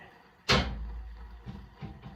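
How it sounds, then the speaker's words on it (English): A glass door for an Atasuki knockdown terrarium set down into its track with one sharp knock and rattle, followed by two softer bumps as it settles, close up and without talk. "I'm going to lift the door"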